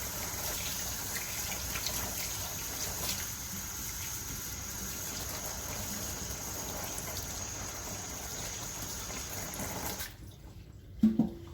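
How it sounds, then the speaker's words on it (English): Hands being rinsed under a running tap in a kitchen while making a king cake: a steady, fairly close rush of water runs for about ten seconds, then stops abruptly, followed by a brief faint clatter. "now let me wash my hands off"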